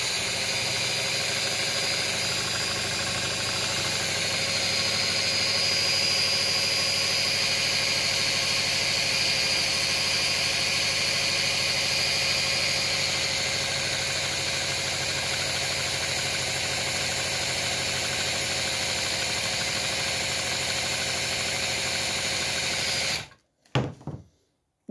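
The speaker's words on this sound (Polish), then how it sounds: "a teraz zobaczymy, jak sobie da ten generator radę z tym halogenem" A homemade generator built from a washing machine motor runs steadily and loudly throughout, a constant mechanical drone with a whine, powering a halogen lamp, before cutting off abruptly at the very end.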